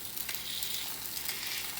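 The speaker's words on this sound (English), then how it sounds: "You'll feel that great sizzle that we love creating" A fish fillet sears in a hot pan, giving a continuous bright crackling sizzle, close and steady throughout, with no voices.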